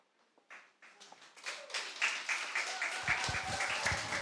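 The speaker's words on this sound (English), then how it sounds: "Let's give him a big round of applause." Audience applause following an entry in a national reading competition, starting as a few scattered claps and swelling into steady, dense clapping from a crowd in a hall.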